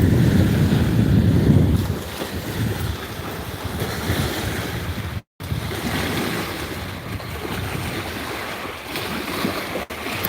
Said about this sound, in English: I know it looks like an ocean, but it's actually fresh water.